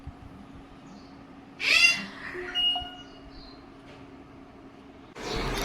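A pet parrot kept at a window in the morning lets out a sharp, shrill squawk, then a shorter second call, against quiet room hum, ending in a burst of broadband noise.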